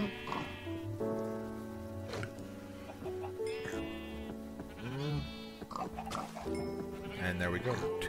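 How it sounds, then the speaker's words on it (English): Pigs oink and grunt in Minecraft (All The Mods 3) amid farm animal bleats and a steady rain-like background hiss, with someone talking over them throughout. "And there we go, 2 baby pigs."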